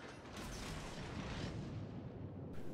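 Naval guns firing in World of Warships during a battle against a Texas battleship, heard as a dense, sustained roar of booming gunfire and explosions that fills the clip without a break.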